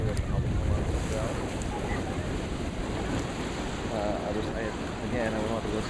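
Surf at Tikehau Atoll in French Polynesia, seen from a beach hotel, a constant washing roar with wind buffeting the microphone; a voice talks over it at times.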